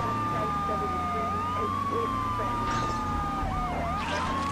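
Police car siren in the game GTA 3, a wailing, sweeping electronic tone over constant engine and traffic rumble, moderately loud.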